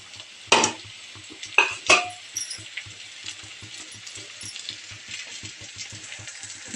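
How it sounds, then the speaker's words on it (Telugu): Boiled elephant yam pieces frying in oil, giving a faint crackling sizzle. A few sharp clinks of a utensil against the pan come near the start. "ఇప్పుడు మనం ఉడకబెట్టి కోసి పక్కన పెట్టుకుని కంద ముక్కలను కూడా వేయించుకొని నూనెలో కాసేపు అలా"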